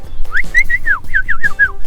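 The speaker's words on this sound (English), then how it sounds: "that is the whistling ducks. Those are either black-bellied or fulvous whistling ducks" Loud, shrill whistling calls of black-bellied or fulvous whistling ducks at Lake Apopka, several quick wheezy notes in a rapid series, close and clear.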